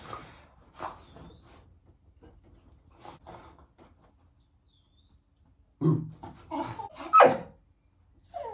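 A pet dog gives short scattered barks and grumbling growls indoors, quiet at first, then a louder cluster of close barks near the end.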